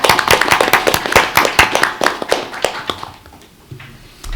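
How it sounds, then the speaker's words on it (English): A small crowd at a school board meeting applauds nearby, brisk uneven claps for about three seconds before thinning out and fading. "Give them a round of applause."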